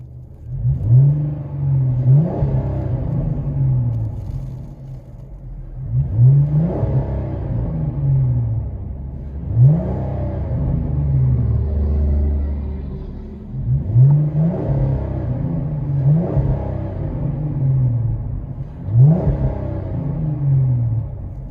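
A 2010 Dodge Challenger 3.6L V6 with Flowmaster Super 44 exhaust, heard from inside the cabin, revs repeatedly in about five rising bursts over a steady low rumble, each swell fading back to idle.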